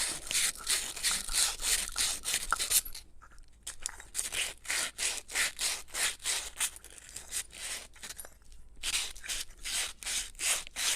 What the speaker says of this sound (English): I'm going to hit my shaft here with a little emery cloth